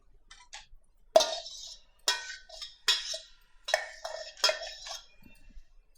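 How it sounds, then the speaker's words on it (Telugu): Curd poured and spooned onto chicken in a bowl for a Hyderabadi dum chicken biryani marinade, heard as a handful of separate clinks and soft wet scrapes of a utensil against the dish, close and with no talking. "ఫస్ట్ 2 cups పెరుగు వేస్తున్నాను."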